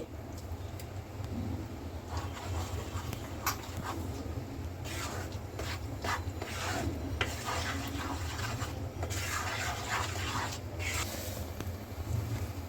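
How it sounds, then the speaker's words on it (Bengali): Semolina being stirred with condensed milk and ripe mango for mango barfi makes continuous scraping and rubbing against the pan, with scattered sharper clinks over a low background. "এবার সুজির সাথে আমি মিশিয়ে নেব কনডেন্স মিল্কটা এবার আমটা দিয়ে দিচ্ছি"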